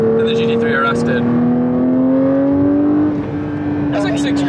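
A Porsche 992 GT3 engine drones steadily while driving, its pitch rising slowly as it pulls, with cabin noise and a person talking over it.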